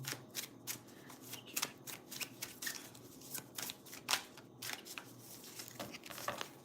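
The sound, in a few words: tarot cards being shuffled and drawn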